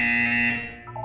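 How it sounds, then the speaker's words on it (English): A loud, steady electronic buzzer from the video game Portal 2 holds a harsh tone and then fades slightly. It is heard alone at close range. "You will hear a buzzer. When you hear the buzzer, look up at the ceiling."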